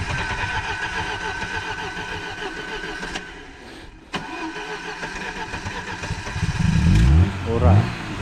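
A car stalled on a snowy road in Crimea cranks and catches, its engine rising to a louder, rough mid-range roar near the end, with people talking over the idle before it.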